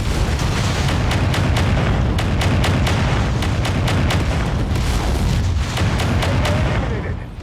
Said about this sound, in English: This is firing full-size AC5 ammunition. It's just using a rotary system to shoot the same thing faster.